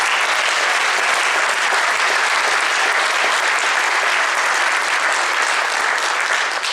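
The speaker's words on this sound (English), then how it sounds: "If you can give them a round of applause, thank you so much." Loud, dense audience applause at an honor band concert, honoring band chairs and percussion helpers, rolling on evenly throughout without any pauses.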